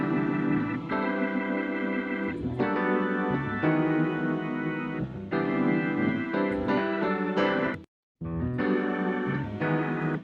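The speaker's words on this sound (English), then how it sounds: "So the choir I used is an Omnisphere." Omnisphere choir pad layered over Rhodes and piano chords in a gospel-style production, a full sustained chord progression with warm harmonic layers, brief pause near the end before the chords resume.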